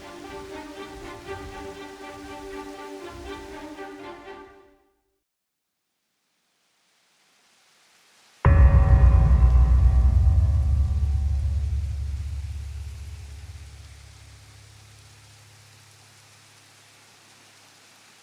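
Steady rain falls on Isla Sorna in Jurassic World Evolution at the start of the wet season. A soft patter and hiss gives way to a gap of near silence, then a heavy, rumbling downpour that slowly fades.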